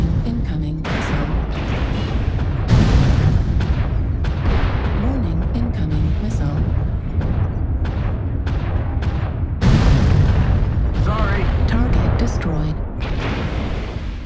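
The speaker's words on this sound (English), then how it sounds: "Warning, incoming missile." Incoming missiles in a combat video game strike as a run of loud booming explosions and bursts. They come as repeated heavy impacts at irregular intervals, with a prominent blast midway and another late, over continuous battle noise.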